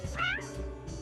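A cartoon cat gives a single short, rising meow, close and clear, over a faint steady background hum.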